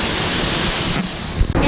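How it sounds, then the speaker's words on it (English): Waterfall at Epcot, a loud, steady rushing roar of falling water heard close by, with brief wind buffeting near the end. "There's a waterfall down there. Oh, I love this waterfall."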